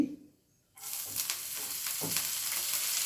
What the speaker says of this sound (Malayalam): പച്ചമുളക് രണ്ടിഞ്ചി പച്ചമണം പോണ വരെ ഫ്രൈ ആക്കണം